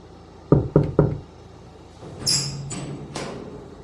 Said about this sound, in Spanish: golpeó suavemente la puerta metálica antes de abrirla